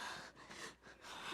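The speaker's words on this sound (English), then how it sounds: "The opening scene here has the kid breathing as the only sound for a second" A child's faint, breathy gasps and inhalations in a video game's opening cutscene, soft and close, the only sound present.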